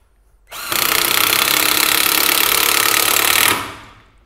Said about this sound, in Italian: quindi provo ad avvitare questa vite da 5 mm di diametro per 8 cm di lunghezza